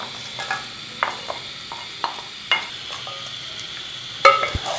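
Makhandi halwa is stirred in a pan after dry fruits are added, giving soft scraping strokes at an irregular pace over a faint steady sizzle, with no talking.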